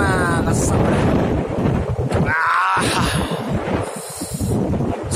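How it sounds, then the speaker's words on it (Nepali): Strong wind buffets the microphone outdoors in a village, a constant rough roar, with a voice speaking over it. "आज पुरा ओभर हावा चलिरहेछ"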